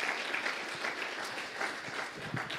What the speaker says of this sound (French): Alors, vraiment, on peut applaudir le Seigneur pour ça.